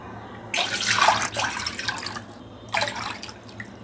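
Water poured in two bursts into a pot for boiling rice rava upma, splashing and gurgling close by with a brief pause between pours.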